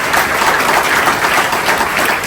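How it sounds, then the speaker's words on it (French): Applause from an audience of about 129 people in a hall during an evening talk, a steady, dense wash of clapping at loud, even level for the whole stretch with no voices standing out. "donc on peut vous applaudir"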